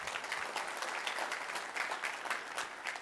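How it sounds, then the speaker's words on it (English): Brief, quiet applause from a conference audience at the ChefConf 2017 keynote for a sponsor, a dense patter of clapping heard from a distance and holding steady for a few seconds. "a round of applause"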